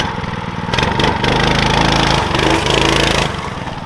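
A Coleman B200RSV full-suspension minibike with a CVT engine revs during a ride, a steady loud mid-pitched engine drone that rises and swells for a few seconds, with no voices.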